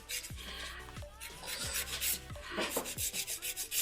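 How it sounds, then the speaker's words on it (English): A metal nail file rasps against fingernails during a manicure, making steady, close, rhythmic scraping strokes that repeat quickly and grow slightly louder toward the end, with no talking. "It's a metal file."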